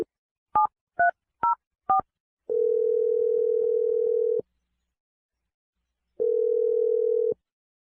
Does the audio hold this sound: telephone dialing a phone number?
yes